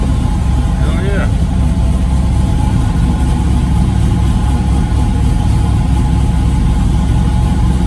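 A station wagon's engine runs steadily at idle right after new battery cables were fitted, a loud continuous low rumble throughout with a brief voice near the start.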